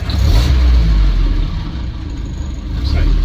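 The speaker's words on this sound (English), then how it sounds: "Nice sounding engine, starts nicely whether it's hot or cold." A Land Rover Series IIa 109 engine runs after starting, a loud low rumbling idle with deep steady engine tone that eases slightly mid-way then swells again.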